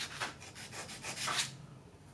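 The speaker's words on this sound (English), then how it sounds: "sand away just the corners." A piece of 800 grit sandpaper rubs the corner edges of cut plywood in a quick series of soft, close scratching strokes, rhythmic and then fading, with no talking.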